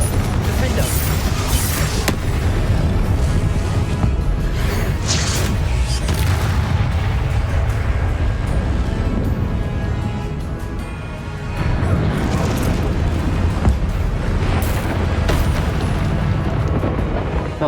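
Confringo spell blasts in Hogwarts Legacy combat land as heavy, rumbling booms, one after another, over a dense, continuous wash of loud game noise.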